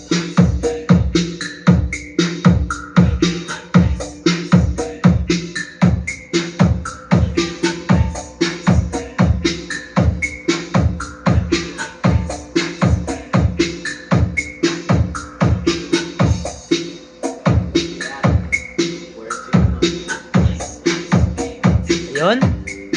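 Music plays through a revised Rokola expandable jukebox speaker, loud and close, with a steady driving beat of punchy kick hits and fuller mid-range tones running throughout.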